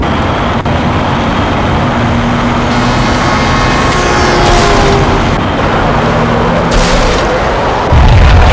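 A bomb goes off in the game Max Payne, a heavy, booming blast that rolls on as a continuous loud rumble, with a deeper thump near the end.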